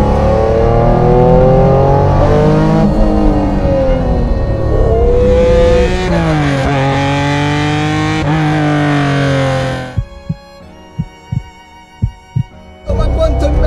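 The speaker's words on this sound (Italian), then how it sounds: "come salgono di giri bene le marce" A Honda NSX engine revs up hard through the gears, loud and close, its pitch climbing and dropping with each shift, then a few sharp throttle blips and pops near the end.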